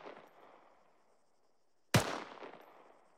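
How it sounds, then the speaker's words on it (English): A single sharp gunshot cracks out partway through, followed by a rolling echo that fades away, with only faint background noise before it. "quick example of a sustained rate of fire would sound something like this"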